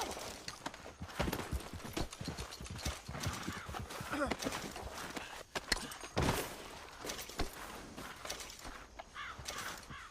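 Horse hooves clip-clop in Red Dead Redemption 2, a rapid uneven gallop of hoofbeats with occasional neighs, running continuously under game dialogue and ambient noise.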